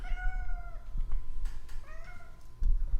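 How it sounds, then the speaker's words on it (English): A cat meows twice indoors, two drawn-out tonal cries separated by a pause, fairly close over a low background hum with faint bumps and clicks. "So if you hear him in the background, that's Rod the cat again."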